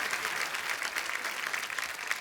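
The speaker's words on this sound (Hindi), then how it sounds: "जोरदार तालियां एक बार हो जाए" An audience at a stage show claps steadily, with dense, continuous applause that holds at an even level throughout the short stretch.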